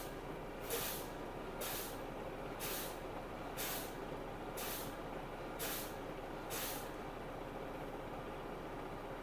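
A truck's air brake system is fanned down by repeated pedal presses, giving seven evenly spaced bursts of hissing air roughly a second apart over a quiet low engine hum inside the cab.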